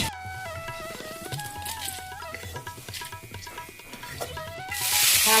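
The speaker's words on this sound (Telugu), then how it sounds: "వేగాక పాలకూర వేయించుకో." Spinach hits a hot frying pan with a sudden loud hissing sizzle near the end, after a stretch of background music with a melody.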